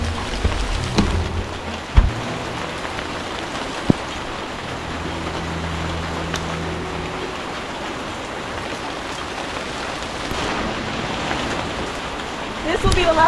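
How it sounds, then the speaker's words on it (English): Heavy rain pours steadily on an outdoor garden during a harvest, a dense close wash of drumming with a few sharp knocks and brief low hums over it. "The rain is kind of hard, which makes it a little bit difficult."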